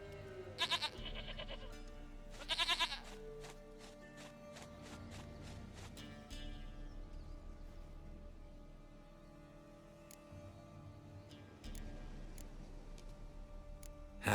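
A goat bleats twice in The Witcher 3, two short, bright cries close together near the start, over a steady game soundscape with ticking and a low hum.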